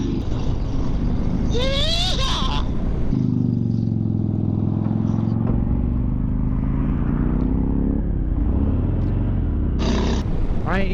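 A 2019 Harley-Davidson Fat Bob motorcycle in club style riding on the road, its engine rumbling loudly and steadily and rising as it accelerates, with wind noise and riders shouting over it.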